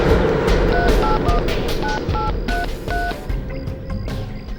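A telephone keypad sends a quick series of beeping DTMF dialing tones while a call is placed, distinct tone bursts over a loud background rumble, with no talking.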